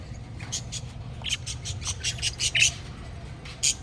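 Short, high bird chirps repeat in quick irregular bursts over a low steady hum, fairly close and moderately loud.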